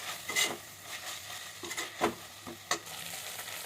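Green chillies are sautéed and stirred in a cooker while making chicken biryani, with a steady sizzle of frying under a few sharp scraping stirs and clinks of a spoon against the metal.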